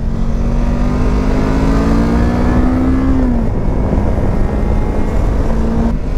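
A Voge motorcycle, 500cc or 300cc, riding through a curve, its engine droning loud and steady with a slowly rising then easing pitch, heard close up without speech.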